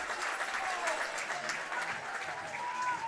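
Spectators at a semifinal game of Intercounty Baseball League baseball in Guelph applaud and cheer steadily after a stand-up double, a sustained wash of clapping with a commentator's voice faintly underneath.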